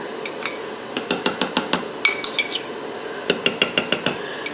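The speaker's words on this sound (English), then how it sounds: "we're going to just continue stirring to melt that butter" A utensil clinks rapidly and repeatedly against a pot while small pieces of butter are stirred to melt for a lemon meringue pie filling, sharp metallic taps in quick runs with brief pauses and no talking.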